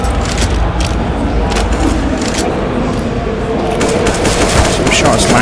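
Dense, loud automatic gunfire in Counter-Strike: Global Offensive during a competitive esports match, rapid bursts of shots rattling continuously, with a caster's voice talking over the action.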